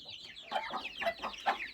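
Young chicks cluck softly nearby in a quick run of short, chattering calls, fairly quiet with no talking.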